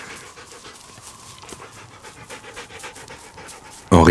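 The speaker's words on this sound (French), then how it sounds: "Sur les talons de l'homme trottait un chien. Un énorme husky du pays." A huge northern husky pants rapidly in short breathy bursts, close and fairly quiet, before a sudden loud burst of noise cuts in at the very end.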